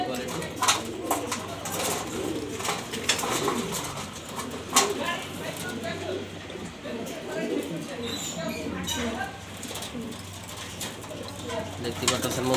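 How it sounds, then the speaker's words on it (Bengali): Large grizzle-coloured racer pigeons coo in soft, repeated throaty bursts nearby, with wing flutters and rustling, while a person talks over them. "আজকের কবুতর থাকছে সব আনকমন রেসার কবুতর"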